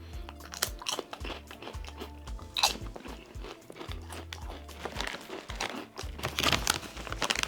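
Crunchy bites and chewing of light-colored Lebanese nacho cheese chips, loud close-up crunches repeating in bursts over several seconds with no speech.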